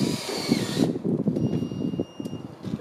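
A power drill drives fasteners into rafterless solar racking on a roof, heard as brief close whirring bursts with pauses between them, over a steady background hum and no talking.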